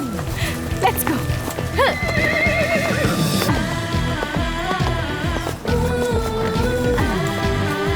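A horse whinnies loudly and close, with hooves clip-clopping in a steady rhythm beneath it, amid outdoor ambience with no talking.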